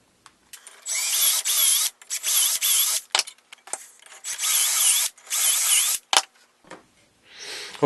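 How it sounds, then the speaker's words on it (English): A power drill whines through wood using a doweling jig in five or six bursts of about a second each, separated by short pauses and small clatters. "So we're ready to go and start drilling."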